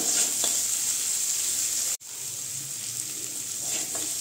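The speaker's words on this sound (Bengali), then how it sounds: "আর একটু ভেজে নেব আলুটা" Constant hissing sizzle of salted potatoes frying in a pan, with occasional soft stirring sounds and a brief dropout midway.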